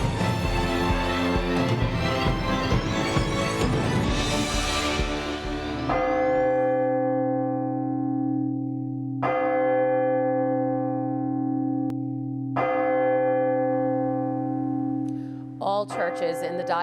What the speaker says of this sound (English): All churches in the Diocese of Brooklyn tolled their bells 21 times for the victims of the Texas school shooting.